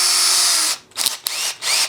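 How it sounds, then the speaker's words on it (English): A power drill spins a 15¼-inch length of cut coat hanger wire, giving a loud steady whine that cuts out, then returns in short bursts and revs close up. "We put it in the drill,"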